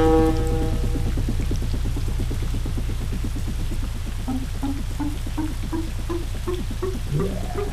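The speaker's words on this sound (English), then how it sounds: "Look at all that rain." Steady rain hisses loudly and continuously in the zombie strategy game Atom Zombie Smasher, a dense wash of drops alone with no talking, joined by a faint rising series of game tones near the end.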